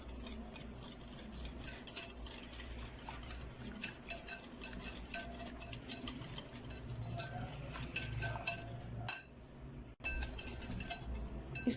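Lemon juice, yogurt and tandoori masala being stirred in a bowl with a spoon, giving a quiet, steady run of scraping and clinking strokes against the bowl, with a brief pause near the end before the stirring resumes.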